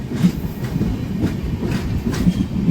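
A train rolls through a crowded station, loud and close, with rhythmic clickety-clack of wheels over rail joints and a low rumble under it.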